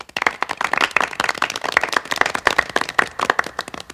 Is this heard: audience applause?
yes